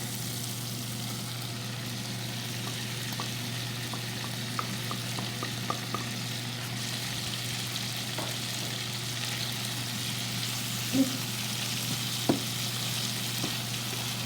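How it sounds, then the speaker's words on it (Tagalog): Chicken liver sizzling and frying in a pan for adobo, stirred gently with a few soft utensil clicks over a steady low hiss, fairly quiet, with no talk. "Ayan, dahan-dahan lang natin haluin ito kasi itong liver natin madudurog siya."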